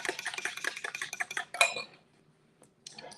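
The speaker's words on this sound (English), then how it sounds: "grab my eggs, give them a second whisk" Eggs whisked in a bowl, a rapid close clatter of the whisk against the sides for about a second and a half, then quiet with a couple of faint taps.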